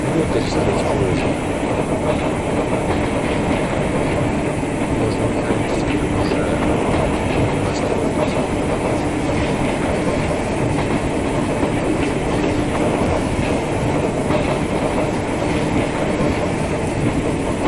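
An electric train runs steadily on its rails, with a continuous loud rumble and faint clickety-clack from the wheels throughout, heard from on board.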